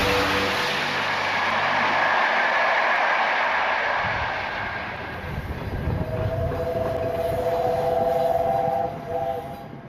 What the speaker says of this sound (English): A steam locomotive on a mission. Tornado, a Peppercorn-class A1 Pacific, arrives in Doncaster.